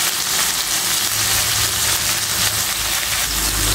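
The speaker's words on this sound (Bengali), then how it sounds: "এখন আমি গুঁড়ো মশলাটা অ্যাড করে আবার একটু কষিয়ে নেব।" Koi fish with drumstick pods and ground spices sizzling in a frying pan, giving a steady, dense crackle that runs evenly throughout with no talking.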